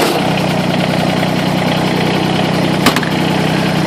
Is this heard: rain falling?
no